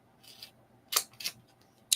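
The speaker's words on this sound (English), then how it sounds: "I can get my other scissors" Scissors snip in three or four sharp, separate cuts, close and fairly quiet, with no voices.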